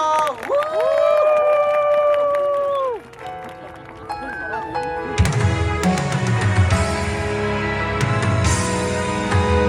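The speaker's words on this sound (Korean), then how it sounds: "박수 크게 쳐주세요." A street crowd at a Han River busking show in Seoul cheers and whoops, with scattered applause. A music-like tonal passage comes first, then broader, louder crowd noise swells near the end.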